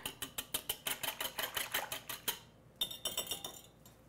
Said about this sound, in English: I'll give this a quick whisk.